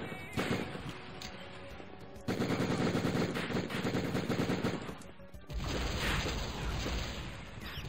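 Rapid machine gun fire in the Die Hard Trilogy video game, dense sustained bursts of loud automatic shots broken by a short gap, with mechanical clatter between volleys.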